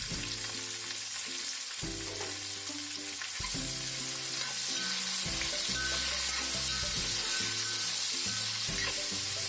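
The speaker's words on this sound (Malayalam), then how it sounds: "ഇനി ഇതിലേക്ക് അരിഞ്ഞു വെച്ച സവാള ചേർത്ത് സവാള നന്നായി വാടുന്നത് വരെ വഴറ്റിയെടുക്കുക." Chopped onion sautéing in a pan for chicken roast, a constant close sizzle with stirring, loud and steady, with no one speaking.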